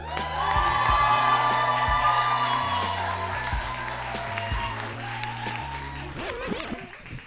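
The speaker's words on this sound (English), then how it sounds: "Make some noise for this handsome young brother, Chandler Touchstone." Live audience at a spoken-word poetry event applauds and cheers loudly for a poet taking the stage, with whoops over steady clapping while music plays underneath throughout.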